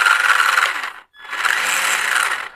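Traxxas Summit RC truck with its wheels spinning in first gear, a close, loud mechanical whirring and ratcheting in two continuous bursts split by a brief pause.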